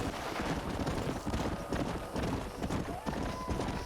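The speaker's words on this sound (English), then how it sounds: "the sound of like the horses running is making me super sleepy" A herd of horses gallops in the Red Dead Redemption video game, with a dense, continuous rumble of many hooves pounding the ground at a steady pace.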